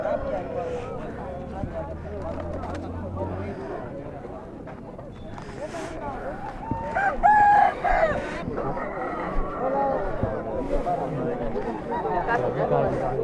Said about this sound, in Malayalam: ഇതാണ്ടേ കോഴിപ്പോര്, വാശിയേറിയ കോഴിപ്പോര്